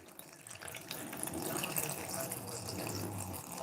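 Slushy mix poured into a slushy machine makes a steady liquid pouring and splashing, moderately close and continuous for several seconds with no talking.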